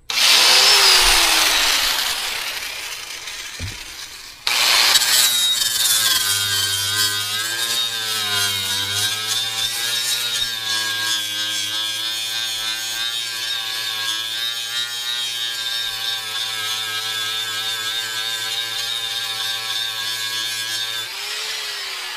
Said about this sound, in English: All right, we got our old trusty DeWalt grinder.